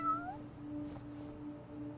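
A cat meows in Ultra Street Fighter 4: one rising, drawn-out meow right at the start, then a steady humming game soundscape.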